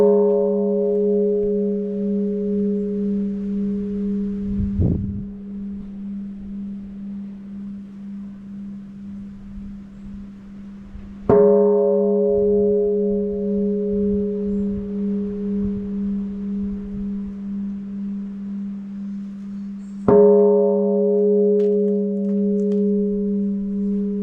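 Large temple bell in Japan struck three times, each blow a deep, loud strike followed by a long, humming resonance that slowly fades, with no talking over it.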